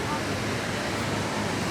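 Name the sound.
waterfall at Disneyland park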